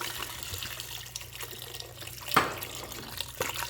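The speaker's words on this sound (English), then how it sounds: "to our vegetables, we're going to add our red wine, our beef broth," Red wine and beef broth poured into sautéed vegetables for braised short ribs, a faint steady liquid pour and splash with a brief louder burst midway, no talking.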